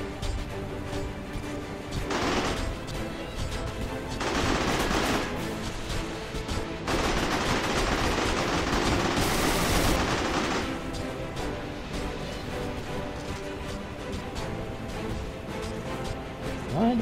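Rapid gunfire bursts and shooting in a Winter Warrior 2 video game battle against dinosaurs, sustained and loud with heavier crashes between about 2 and 10 seconds, backed by game music.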